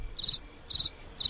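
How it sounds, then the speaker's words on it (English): A cricket chirps in three evenly spaced short bursts, clear and fairly close against a quiet background. "it's crickets"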